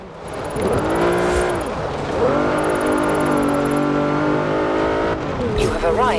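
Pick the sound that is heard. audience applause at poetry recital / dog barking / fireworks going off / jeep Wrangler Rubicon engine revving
jeep Wrangler Rubicon engine revving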